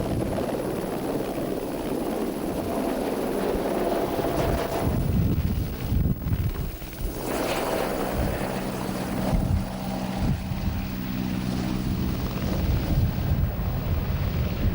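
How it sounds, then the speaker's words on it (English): Rescue helicopter stationed at the grandstand in Douglas during the Isle of Man TT races, a steady, loud rotor and engine drone with gusting wind noise across the microphone, no voices. "every year during the TT there's a rescue chopper based at the grandstand in Douglas, and if anything goes wrong, it's airborne within seconds"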